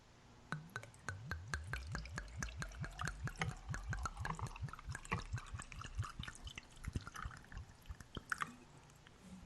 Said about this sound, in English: So first we're going to pour in the vodka.